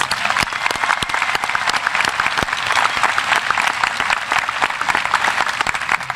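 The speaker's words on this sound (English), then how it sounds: "Can we give them a round of applause?" A large crowd at a high school commencement ceremony applauds steadily, a dense wash of clapping with a few sharper individual claps standing out, sustained throughout.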